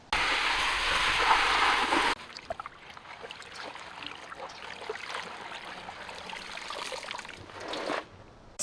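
Running water pours over celtuce leaves as they are washed in a kitchen: a loud, steady gush for a couple of seconds, then a softer trickle and splashing, ending in a brief louder surge.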